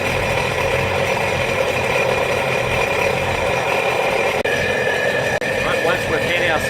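Sea-Doo jet ski engine idling while being flushed with water, a steady mechanical hum and rattle with a bright whine, close and loud, broken by two brief clicks near the end.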